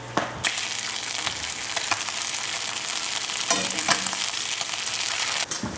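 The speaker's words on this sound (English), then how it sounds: "first things first, I need to flip the bacon" Bacon sizzling loudly in a pan at close range, a dense crackling hiss with scraping clicks as the strips are flipped and moved, and no voices.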